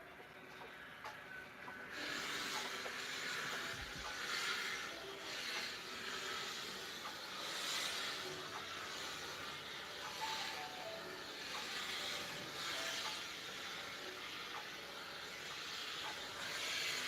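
A garment steamer hisses steadily and close by onto a vintage wedding dress, a broad continuous rush of steam that starts after a short quiet moment and runs on with slight surges.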